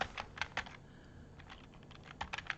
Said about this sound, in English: I'm going to type in grandma.